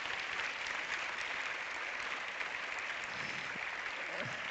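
Audience at a film award ceremony applauding warmly, a dense, even wash of many hands clapping continuously throughout with no pauses.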